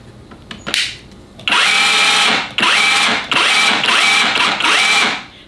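Festool KHC 18 cordless rotary hammer in drilling-only mode, several loud, close trigger pulls, each a whirring motor surge rising in pitch, four repeated bursts after a few clicks, no talking.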